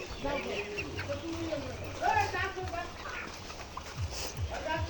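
Chickens on a layer poultry farm cluck and chatter in a steady flock murmur, with scattered scratching and tapping, while someone talks over them.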